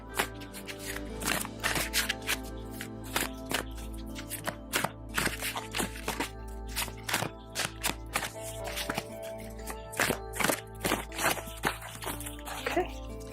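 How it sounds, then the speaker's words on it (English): Oracle cards are shuffled and riffled in quick bursts of crisp flicking and tapping, with a steady low hum underneath. "Shuffle through the cards."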